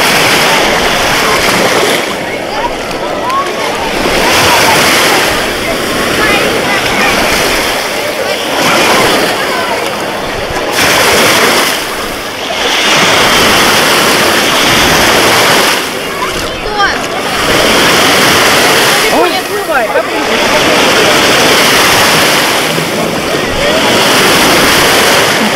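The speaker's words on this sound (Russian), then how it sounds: "А так-то небольшая волна." Small waves roll and break continuously on a beach shore, a loud, close wash of surf surging in repeated pulses with wind noise, and no clear talk over it.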